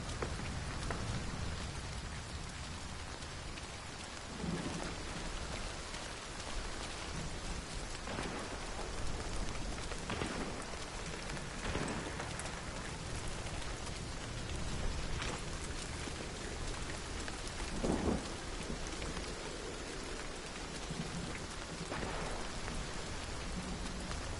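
A heavy downpour in the video game Hunt: Showdown hisses steadily and densely, with occasional low rumbles of thunder rolling underneath; no voices over it.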